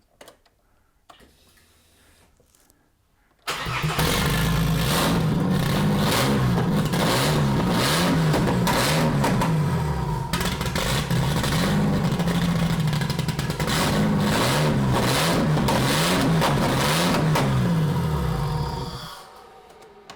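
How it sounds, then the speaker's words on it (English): After a quiet start, a car engine fitted with a Maxpeedingrods GT45 turbo fires up loud and close. It runs hard for about fifteen seconds with a rough throbbing roar and repeated rises as the throttle is worked, then cuts off abruptly. "I've hooked up the throttle pedal now so we can keep it running."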